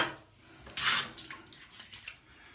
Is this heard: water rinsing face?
yes